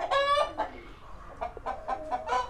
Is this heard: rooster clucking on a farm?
yes